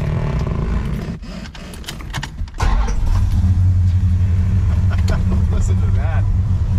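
A 1970 Dodge Super Bee with a 440 Six-Pack V8 engine runs close by, a loud, steady low rumble that swells after a brief dip, with a voice speaking over it.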